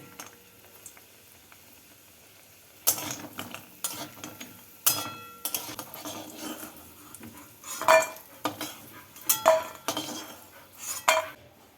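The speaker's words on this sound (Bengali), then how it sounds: "এবার এই তেলের মধ্যে প্রথমে বড়িগুলোকে ভেজে নিচ্ছি" Lentil badi are fried in hot oil in a kitchen pan. After a quiet start, metal utensils clink and scrape against the pan in uneven bursts, with a light sizzle underneath.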